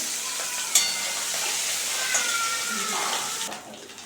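Small puti fish, salted and coated with turmeric, fry in hot oil with a steady broadband sizzle, a couple of sharp spatters, and a stir or clink near the end before the hiss drops away.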